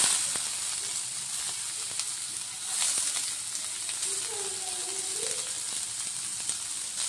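Onions sizzle quietly in hot oil in a pan for egg fried rice, a soft, steady crackling hiss that holds throughout with no talking.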